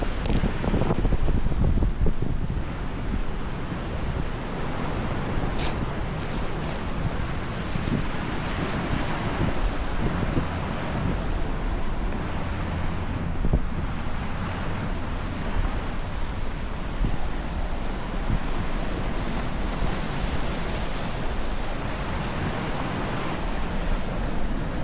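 Waves surge steadily onto a pebbly beach in far North Queensland, a constant loud wash of surf and rolling stones with strong wind buffeting throughout and no voices.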